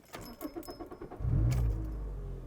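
A Toyota Corolla nicknamed Christine starts up: short cranking bursts and a jangle of keys give way to the engine catching and settling into a steady, close idle.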